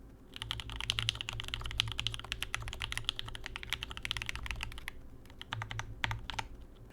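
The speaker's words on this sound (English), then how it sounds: "I'm very bad at typing on linears, but I love the way it sounds and feels." Rapid, steady keystrokes on a Paper Crane Gerald65 mechanical keyboard with linear switches, close and clear, with a deeper thock under the clicks and a brief slowdown near the end.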